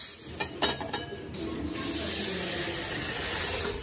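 About 100 grams of horse gram grains are washed in water, with a few clinks and splashes first, then a steady, close rush of running water.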